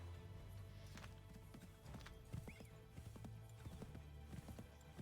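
Horse hooves clip-clop at a steady walking rhythm in Assassin's Creed III, with a neigh or whinny rising briefly in the middle, all fairly quiet under low game ambience.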